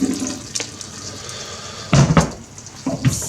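Rinse water tipped out of a pot of rice comes in short pouring splashes, a brief gush near the start and a louder pour near the end, close with no talk.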